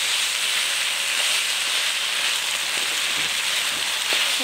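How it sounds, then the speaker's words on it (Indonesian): Kue mendut dough cooking in a pan, giving a steady close broadband hiss and sizzle with faint crackles throughout. "Ini di sini Bunda sambil masak adonan tadi."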